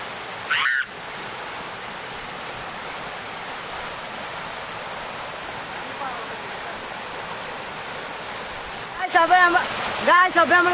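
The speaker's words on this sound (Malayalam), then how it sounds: "ഈ വെള്ളച്ചാട്ടം" A steady, full roar of the Swapnakundu waterfall at Karuvarakundu fills the whole stretch, with a brief voice at the start and people talking over it near the end.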